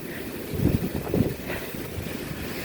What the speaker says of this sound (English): the snow is blowing around quite a bit